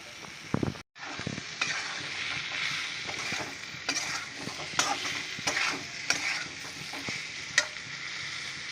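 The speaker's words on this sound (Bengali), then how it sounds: "একটু নাড়াচাড়া করে কষিয়ে নিয়ে এবার আমি এঁচোড়টা দিয়ে দিচ্ছি" Young jackfruit stir-fried with spices in a hot pan, a loud continuous sizzle broken by repeated scraping spatula strokes, close up with no voices.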